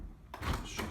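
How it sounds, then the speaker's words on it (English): A house door is pushed shut indoors, a single close, solid thud with a brief rattle after a short quiet moment, in a room of a property being shown around. "Shutting the door, sorry"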